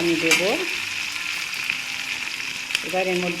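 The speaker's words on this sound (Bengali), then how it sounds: "দিয়ে এবার কুঁদরিটাকে আমি ভাজবো।" Ivy gourd (kundru) frying in a pan gives off a steady, close hiss of sizzling oil, with short humming, voice-like tones at the start and near the end.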